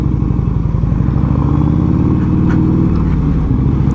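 A 1984 Harley Davidson FLT Tour Glide rumbles loudly while being ridden, its engine giving a close, steady, low throbbing thump with a slight shift in pitch near the end.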